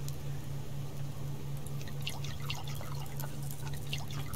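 Water pouring and dripping as containers are filled in the survival video game Subsistence, a steady trickle with scattered drips over a low hum.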